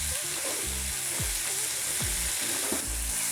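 Tomato pieces frying in a pan, a soft steady sizzle broken by several scraping stirs of a spatula, close and fairly quiet, with no voices.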